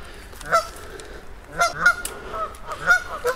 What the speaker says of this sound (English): I scared a goose.